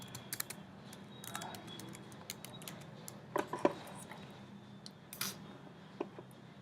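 Light, irregular keystrokes on a computer keyboard as a game name is typed in, scattered soft clicks with a small cluster midway, quiet and close with no talking.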